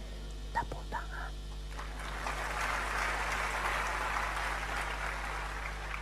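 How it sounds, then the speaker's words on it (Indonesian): A church congregation at an evening sermon breaks into applause after a brief voice, and the clapping swells into a sustained wash of many hands filling the hall. "Tepuk tangan."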